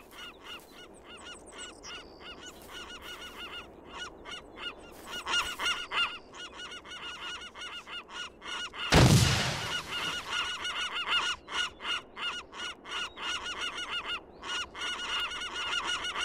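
Repeated honking bird calls in the video game ArmA, a loud flock of goose-like honks in uneven bursts with a sudden sharp burst midway, no talk over them.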